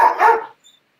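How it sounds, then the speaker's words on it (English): A dog gives a single loud, close bark of about half a second, then falls silent. "Dog."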